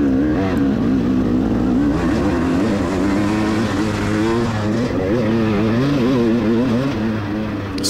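Motocross bikes race on a rocky dirt track at a Loretta Lynn's amateur event, engines droning continuously and loud throughout, several machines overlapping with wavering pitch as they pass, no talk over them.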